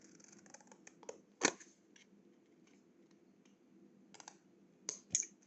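Scissors snip through a magic trick card in a few short, sharp cuts and small clicks, close and quiet, separated by near silence.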